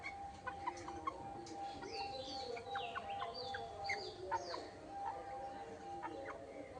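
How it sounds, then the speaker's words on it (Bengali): Chickens clucking and chirping faintly in the background at a rural home, in scattered short calls over a steady hum, with a voice murmuring low. "আমাদের মুরগিগুলো কিন্তু এরকম বড় বড় হয়ে গেছে"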